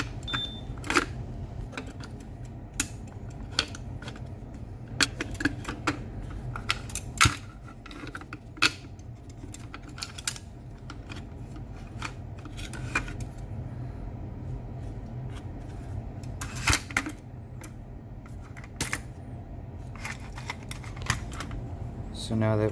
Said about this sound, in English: now we'll go ahead and put the bolt assembly in.